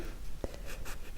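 A pen draws a project diagram on paper: one sharp tap followed by a few soft, brief scratching strokes, close and quiet.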